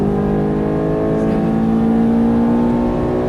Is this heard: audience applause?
no